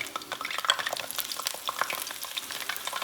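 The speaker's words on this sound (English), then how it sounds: "Let's drop this fish in here just for a few more minutes, see if I can fry that batter that's on top of it." Batter-coated Emerald Isle cod deep frying in a Lodge fry basket, a dense crackling sizzle of bubbling oil that stays busy and close throughout, with no talking.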